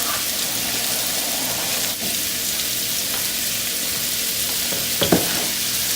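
Shrimp fry in a pan of butter and oil with a steady, loud, crackling sizzle that holds throughout, plus a couple of brief clinks near the end.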